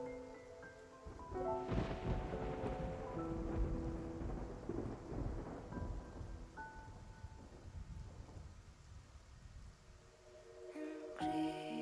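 In the video game Love and Deepspace, a thunderstorm rages at sea: a heavy crack of thunder rolls out into a long rumbling tail over constant rain and wind, with a tonal musical drone running underneath.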